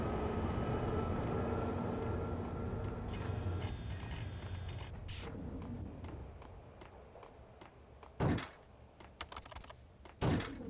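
A train rolls in the video game Max Payne with a steady, fairly loud rumble for several seconds. The rumble then thins out, and a few sharp mechanical clanks and bursts stand out near the end.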